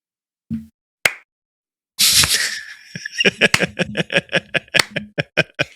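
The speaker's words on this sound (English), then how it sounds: "Are slow claps not cool yet on TikTok?" A slow clap on a podcast set: sparse early claps, then a steady run of evenly spaced, close, fairly loud claps over a brief noisy burst, with no talk.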